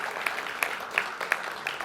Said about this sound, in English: let's give him a round of applause for all he's done